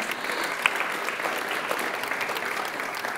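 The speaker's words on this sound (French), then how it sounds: "Qu'on peut applaudir aussi." A conference audience claps in a steady burst of applause, moderately loud and even, with one sharp clap standing out near the start.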